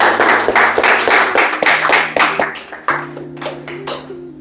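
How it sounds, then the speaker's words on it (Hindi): Clapping for a nutrition coach at a talk show gathering, a few close hands clapping in a quick, uneven rhythm that tapers off, with a steady low hum running underneath. "एक बार कोच के लिए जोरदार तालियां।"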